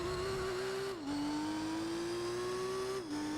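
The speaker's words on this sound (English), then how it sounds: "As we get past the car coming out of the pit lane." A video game race car engine drones steadily at a high pitch while leaving the pit lane, its tone dropping briefly twice as if shifting gears, with no talking.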